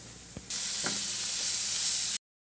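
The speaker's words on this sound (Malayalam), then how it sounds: "നമുക്കിനി ഇതിലേക്ക് അരിഞ്ഞുവെച്ച വെച്ച തക്കാളി ഇട്ട് കൊടുക്കാം" Chopped tomatoes dropped into a pan of frying spices, a soft thud followed by a sudden loud, steady hiss and sizzle that holds close up before cutting out briefly near the end.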